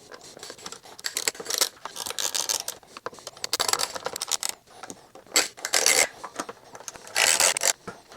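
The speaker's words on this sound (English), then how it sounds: "we'll put the ratchet on the back side here and then tighten" A ratchet tightens M4 Allen bolts on a T-Rex Racing windshield fitted to a Honda CRF300L motorcycle, giving close, uneven bursts of rasping clicks separated by short pauses.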